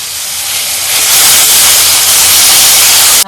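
Tomatoes hit hot oil with toasted spices in a pan, setting off a loud, steady broadband hiss that swells after the first second and holds strong to the end.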